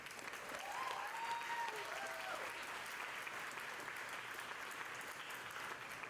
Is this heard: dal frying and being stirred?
no